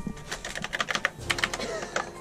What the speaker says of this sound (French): Il y a un clavier d'ordinateur.